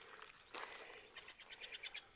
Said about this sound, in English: the little neat birds that you can hear chirping in the background